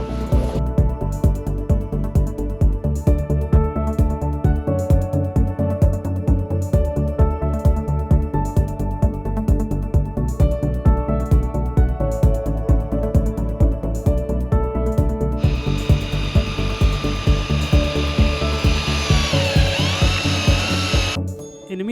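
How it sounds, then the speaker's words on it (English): Power sander working on a section of a hurricane-damaged catamaran hull, a loud, close, continuous whine with a rapid pulsing rhythm that rises in pitch toward the end before stopping. "So I also have to sand that part."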